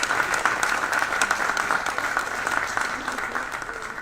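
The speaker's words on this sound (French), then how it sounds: "On peut l'applaudir" Guests at a women's football club evening at the Fairmont Monaco applaud the hotel's chief executive, Monsieur Ruggiero, with even, sustained clapping that thins slightly toward the end.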